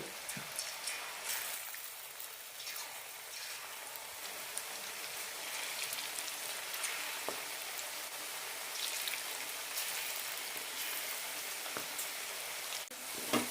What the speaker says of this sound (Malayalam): എണ്ണ ചൂടായിട്ടുണ്ട് ചെറിയ ചെറിയ പീസുകളായിട്ട് കൊടുത്താൽ മതി